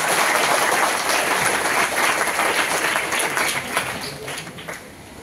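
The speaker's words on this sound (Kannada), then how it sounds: "ಎಷ್ಟು ಸಾಧ್ಯ ಆಗುತ್ತೋ ಅಷ್ಟು ಪ್ರೀತಿಯ ಅಭಿಮಾನದ ಗಟ್ಟಿ ಚಪ್ಪಾಳೆಯನ್ನ ತಟ್ಟಿ ಅವರನ್ನ ಬರ್ಮಾಡ್ಕೊಳ್ಳಿ" An audience at a Nadaprabhu Shri Kempegowda Jayanti event applauds to welcome a speaker, dense sustained clapping that starts loud and slowly thins and fades toward the end.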